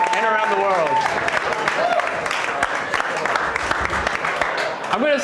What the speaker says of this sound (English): Can I get a round of applause for all the organizations that have been involved so far